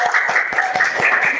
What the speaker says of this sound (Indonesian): beri tepuk tangan untuk Azwan